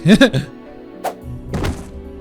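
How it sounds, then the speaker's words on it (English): A bag lands on the ground in a visual novel game scene, making one short, soft thud after a brief burst of voiced speech, followed by a quiet background. "A black object lands in front of me with a light thud."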